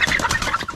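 Chickens clucking, a mix of young birds and mature hens, with several overlapping short calls close by in a quick, busy burst.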